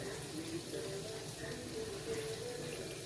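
A tumbler of water poured into cabbage poriyal in the pan, a soft continuous splashing and gushing that runs steadily throughout at fairly low volume.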